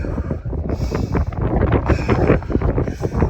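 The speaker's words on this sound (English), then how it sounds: "There's really strong wind gusts up here." Strong wind roars and buffets the microphone in loud, continuous gusts on a high Appalachian Trail section entering the Smoky Mountains, with rumbling low-end noise throughout.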